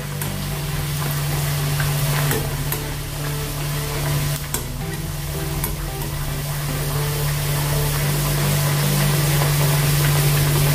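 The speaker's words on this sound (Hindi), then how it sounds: "अभी हम अपनी पूरी डालेंगे इसमें, ऊपर से ऐसे तेल छोड़ेंगे" Jowar (sorghum) puri deep-frying in hot oil, a steady dense sizzle with a constant low hum running beneath it throughout.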